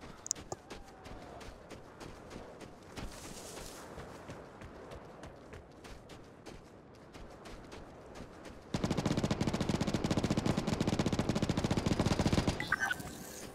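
In the video game Vigor, an M249 machine gun fires nearby in a sustained, loud automatic burst lasting several seconds. Quieter movement and footsteps come before it.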